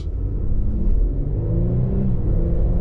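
A 2023 Infiniti QX50 Luxe AWD pulling away from a stop, heard from inside as a steady low engine rumble and road drone that stays even throughout.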